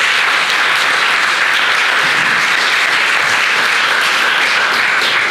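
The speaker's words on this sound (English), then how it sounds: "let's give another round of applause for our candidates" Audience at a downtown Lowell candidate forum applauding the candidates: dense, steady clapping from a roomful of people, loud and continuous for several seconds with no talking over it.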